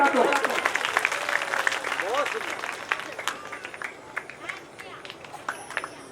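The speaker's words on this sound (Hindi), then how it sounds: "तालियां बजा दो।" Audience applause breaks out during a Hindu religious discourse on the Bhagavata Katha at a village gathering, the clapping loud and dense at first and then tapering into scattered claps under a speaking voice.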